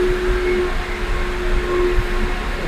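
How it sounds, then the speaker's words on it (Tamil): A noisy clutch release bearing in a car gearbox gives off a steady mechanical drone with a thin sustained whine running through it, continuous and fairly loud. "பேரிங்ல வந்து சவுண்ட் வருதுன்றாரு."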